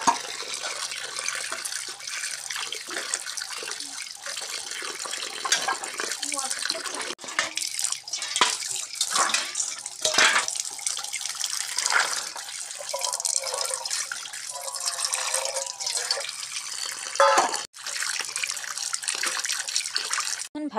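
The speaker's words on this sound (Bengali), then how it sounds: "সেগুলোকে ভালো করে ধুয়ে নেব।" Cut figs being rinsed under a running tap, a steady broadband splash of flowing water with small drips and shifts as the fruit is handled, close and continuous for about twenty seconds.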